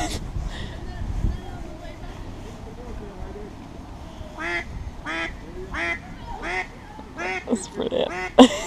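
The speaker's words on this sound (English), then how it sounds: "I love ducks." Ducks quack by a lake while camping in the Lake District, a run of loud, close calls in the second half over wind noise and low background rumble, with people talking nearby.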